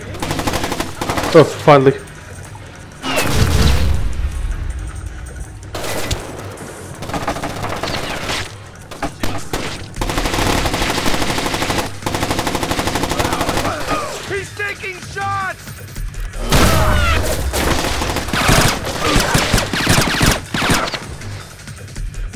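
Repeated bursts of automatic gunfire and scattered shots crackle through a firefight in the Bathhouse mission of Splinter Cell: Chaos Theory, set in Shinjuku, with loud volleys broken by short lulls and a brief spoken remark partway through.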